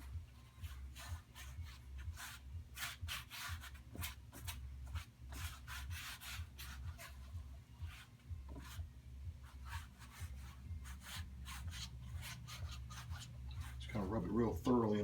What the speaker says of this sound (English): Just kind of rub it real thoroughly into the canvas.